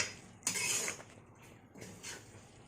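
A metal spoon clinks against a cooking pot in two brief, faint taps about a second and a half apart, with quiet kitchen room noise between them.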